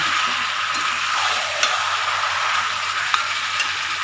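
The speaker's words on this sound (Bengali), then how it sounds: "চিকেন রান্না করা শুরু করে দিয়েছি।" Chicken sizzling and frying in a pan while being stirred, a steady close hiss with a couple of sharp ticks from the utensil against the pan.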